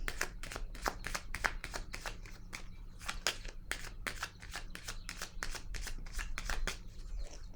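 Tarot cards shuffled by hand in a steady run of crisp, rapid riffling bursts, close and fairly soft, with no talking.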